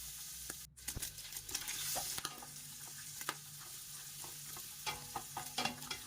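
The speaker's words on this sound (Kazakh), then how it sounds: "Құйрықты сәл қызған сұйық майға шыжғырып аламын." Lamb tail fat sizzles gently in moderately heated oil for kuyrdak, a soft crackling fry with scattered pops and spatula stirring scrapes throughout.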